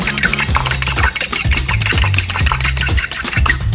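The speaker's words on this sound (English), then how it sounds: "One delicious egg, give that a little whisk" An egg being whisked into flour sieved over ricotta in a bowl, a steady run of quick scraping, clinking strokes played over loud background music.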